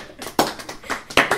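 A small group of tabletop game players clap in a loose, sparse round of applause, with a handful of uneven, close claps scattered across a brief moment.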